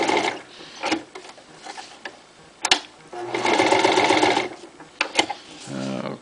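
A Toyota FSG325 sewing machine stitches fabric using #69 upholstery thread. Several short bursts of motor whir come first, then a longer steady stitching run, all close and fairly loud, with brief pauses between the runs.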